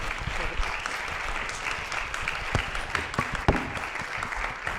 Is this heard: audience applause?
yes